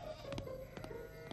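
A sheep bleats faintly in a wavering voice over a steady background hum, with a few short knocks and thumps scattered through.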